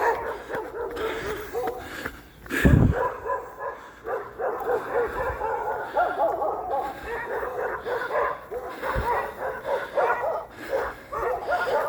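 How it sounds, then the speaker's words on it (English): Dogs bark and yip at a distance over steady outdoor background noise, with one sharper, closer burst early on. "I don't think I've ever been barked at by dogs at that house."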